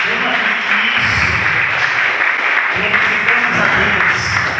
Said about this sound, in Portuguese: Pode ser melhor essa salva de palmas.